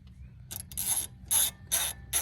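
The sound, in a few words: ratchet tightening a bolt on a wheel hub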